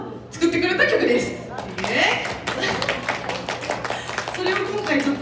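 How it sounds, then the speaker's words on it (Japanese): Audience applause at a live birthday show in a Kanazawa hot spring venue, steady scattered clapping throughout, with someone talking over it and occasional light laughter. "こんなに拍手もらえるの、マジか、すごい嬉しいな。"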